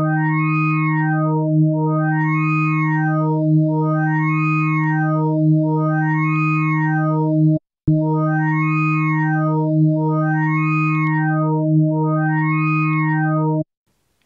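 A sustained Waldorf Quantum wavetable synthesizer tone in dirty mode, with a gritty, distorted, aliased edge, its brighter harmonics sweeping up and down in a regular repeating cycle, playing alone.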